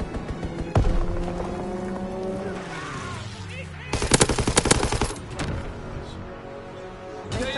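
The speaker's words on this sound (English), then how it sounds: "Strafing run inbound!" Machine gun fire from a strafing run in the video game Call of Duty WW2 rattles in loud rapid bursts, with a sharp shot near the start and a dense volley midway, mixed with game noise and a voice.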